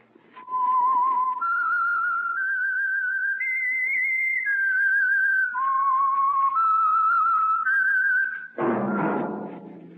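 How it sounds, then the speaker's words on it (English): A lone human whistler carries the signature melody of The Whistler radio program, clear sustained notes stepping up and down over about eight seconds, followed by a short burst of noise. "That whistle is your signal for the Signal Oil Program, The Whistler."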